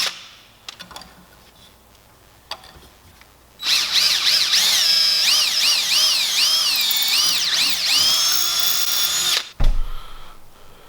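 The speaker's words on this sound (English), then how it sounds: "Keep that drill nice and straight so that it catches both sides." A power drill bores straight through a lawn edger being restored, making holes for rivets: a loud, steady high whine lasting about six seconds after faint handling clicks, then cutting off abruptly with a thump.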